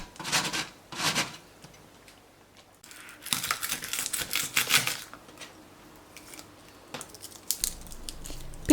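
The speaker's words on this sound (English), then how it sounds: "I'm gonna grate now parmigiano on the finer grater." Parmigiano cheese is rubbed against a fine grater in short bursts of dry, scratchy rasping, several separate strokes with quiet pauses between them, close up and with no talking.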